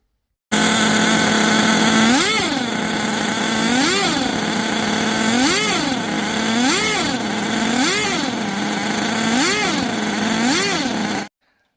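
The nitro engine of an HPI Firestorm 10T RC truck runs loud and close, a buzzy high-pitched drone that rises and falls in regular revving swells roughly every second and a half, with no talking.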